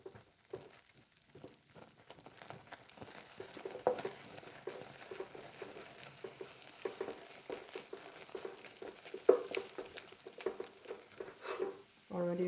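A spoon steadily stirs and scrapes thick choux dough for German crullers as flour is worked into boiling liquid in a pot; the soft, repetitive scraping stays close and fairly quiet throughout.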